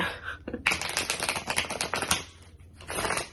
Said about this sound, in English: it's a little hard to shuffle, but I can do it